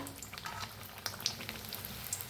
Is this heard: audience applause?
no